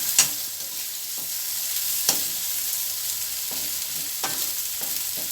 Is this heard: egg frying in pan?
yes